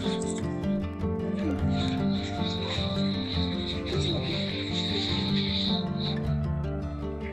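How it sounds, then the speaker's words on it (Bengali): Crickets chirp steadily and densely on a jungle trail near Tinchuley in the Darjeeling hills, a continuous high shrill drone that holds for several seconds amid other layered forest insect sounds. "চারিদিকে ঝিঝি পোকার ডাক।"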